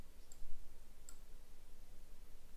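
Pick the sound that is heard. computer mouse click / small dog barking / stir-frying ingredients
computer mouse click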